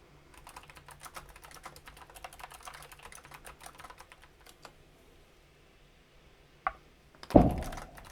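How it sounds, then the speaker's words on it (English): A big firework bursts outside on Bonfire Night as one loud, abrupt boom, preceded by a smaller pop and by steady computer-keyboard typing close by indoors. "Oh, that was a big one, as in firework."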